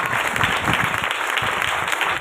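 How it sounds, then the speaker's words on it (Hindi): Church congregation clapping loudly during a sermon, dense and energetic close-up applause with rhythmic claps throughout. "दौर से ताली बजाए हालेलुया"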